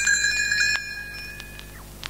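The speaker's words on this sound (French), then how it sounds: "Elle fera tinter ses petites cloches comme ceci." Small fairy bells tinkle as a page-turn signal, giving a bright cluster of high ringing tones that chime together and then fade over a couple of seconds, with a few lighter tings trailing off.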